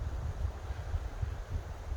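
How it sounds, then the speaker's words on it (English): Steady wind at Big Trout Lake on a canoe trip rumbles and buffets against the microphone in low gusts, continuous throughout with no voices. "Super windy today."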